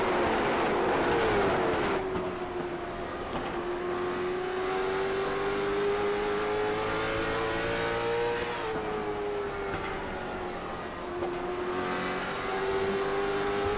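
A race car in a sim racing video game roars past, its engine note climbing and shifting in steady pitch sweeps, loud and close with a smooth continuous whine.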